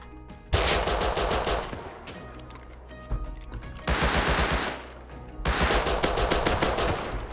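Automatic gunfire in the survival video game Rust: three long, loud, rapid-fire bursts separated by short pauses, with no talking over them.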